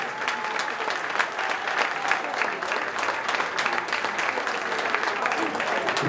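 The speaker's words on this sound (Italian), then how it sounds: "facciamo un applauso per Tonino Farrucciu!" Sustained, dense applause from a crowd in a hall, honoring a former goalkeeper, a steady loud patter of many hands continuing throughout, with faint voices mixed in.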